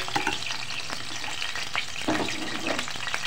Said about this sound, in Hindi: ऑयल के अंदर हम लहसुन का पेस्ट फ्राई करते हैं